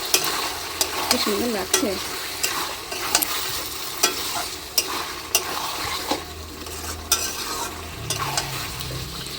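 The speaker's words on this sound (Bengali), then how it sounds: "আবারও ঢাকনা খুলে চিকেনটাকে নাড়িয়ে দেবো" Chicken pieces for chicken kosha being stirred in a frying pan with a spoon, sizzling steadily while repeated scraping strokes and clinks of the utensil against the pan recur throughout; a voice speaks briefly once.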